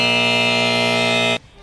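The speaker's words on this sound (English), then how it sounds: "Riley's really quick with that buzzer." A game-show style quiz buzzer sounds one loud, steady harmonic tone for over a second and then cuts off sharply, heard at a lively live tailgate broadcast.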